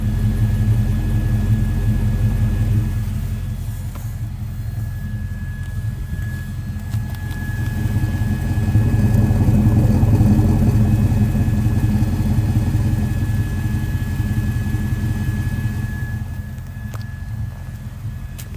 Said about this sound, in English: So there's a good listen to the Mustang GT at idle, 1997 model, convertible with the 5-speed manual.